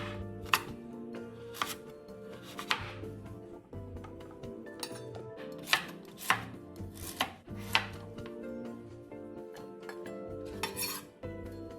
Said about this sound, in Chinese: 将它全部切成厚片。